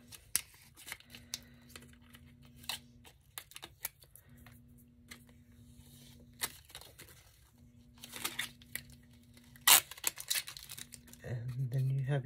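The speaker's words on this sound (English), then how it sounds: "And just slowly peel it off. It peels right off." Protective film gets slowly peeled off an HDF sublimation blank, giving close crinkly tearing and crackling bursts scattered throughout. A steady low tone pulses on and off underneath, and a denser crackle builds near the end.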